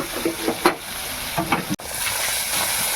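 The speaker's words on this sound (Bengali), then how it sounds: "চিংড়ি মাছগুলো ভেজে নিয়েছি বন্ধুরা, তুলে নেব।" Shrimp frying in hot oil, a bright continuous sizzle with a few soft scraping stirs near the start, close and steady with no talk.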